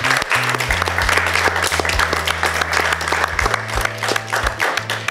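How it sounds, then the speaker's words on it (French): An audience claps for a child who has just read a letter to his father, steady applause throughout with a low, shifting tone running beneath it. "Alors on va applaudir Terence,"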